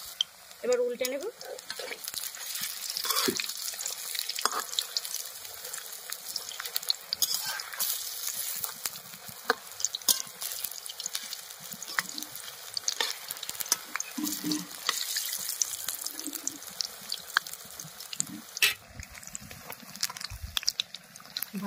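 A chop coated in besan batter fries in hot oil as it is turned over, giving a steady, bright sizzle with faint bursts of crackle and a few soft clinks throughout.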